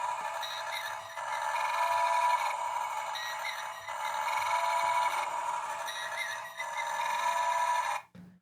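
Electronic sound effects from a Star Trek: Enterprise deluxe bridge toy set by Art Asylum, a loud, steady beeping and chirping tonal pattern that repeats in cycles for about eight seconds before cutting off abruptly.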